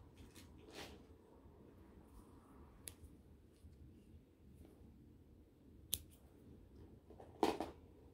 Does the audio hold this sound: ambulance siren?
no